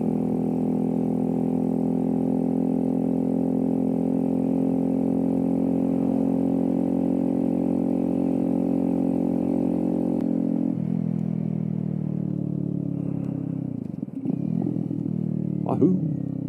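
A Kawasaki Z125 motorcycle engine drones steadily while riding, a loud sustained mid-pitched hum that shifts in tone partway through, with a few brief knocks and wind noise near the end.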